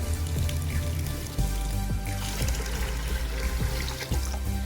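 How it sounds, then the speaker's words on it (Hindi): Two litres of water poured into soaked lentils with salt and turmeric in a pot, a continuous splashing, trickling pour with occasional dull knocks, no talking over it. "2 लीटर हम इसके अंदर पानी ऐड करेंगे।"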